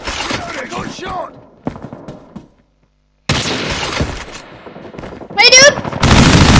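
Bursts of gunfire and explosions from a Call of Duty match come in choppy, loud clusters broken by a brief silence, with excited voices talking over the action.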